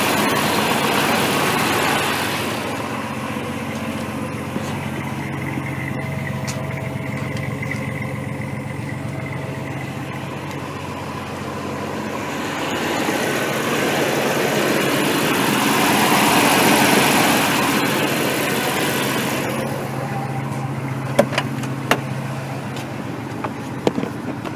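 A 1993 Jeep Cherokee XJ engine, freshly fitted with a new exhaust manifold, idles steadily and fairly close, a continuous low rumble that swells slightly midway, with no talking over it.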